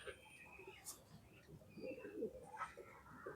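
A loft pigeon with zarda-coloured eyes coos softly in a few low, soft calls, with faint chirps and quiet voices nearby.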